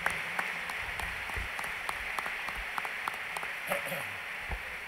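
A concert audience gives scattered applause for the sound engineer at a military band performance. The claps are fairly faint and patchy, and a few louder individual claps and some talk stand out.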